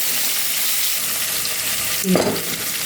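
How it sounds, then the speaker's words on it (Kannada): Chopped onions fry in a pan for vegetable pulao, a steady broadband sizzle running throughout with a brief stir or clatter of the spoon near the end, close and moderately loud with no talking. "ಹೆಚ್ಚಿರುವ ಈರುಳ್ಳಿ ಸೇರಿಸೋಣ ಫ್ರೆಂಡ್ಸ್. ಚೆನ್ನಾಗಿ ಫ್ರೈ ಮಾಡೋಣ"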